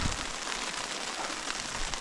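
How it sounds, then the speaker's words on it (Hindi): Rain falls steadily on a mountain trekking route at Roopkund in Uttarakhand, a dense, even hiss of drops pattering on surfaces close by with no voices. "थोड़ा सा बारिश का मौसम स्टार्ट हो गया"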